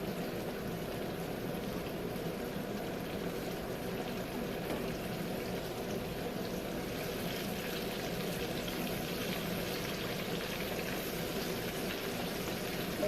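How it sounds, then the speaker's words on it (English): Chicken wings deep-fry in a pot of oil, a soft, even bubbling hiss that stays steady and fairly quiet throughout, with no one speaking. "We'll fry these until they're golden brown."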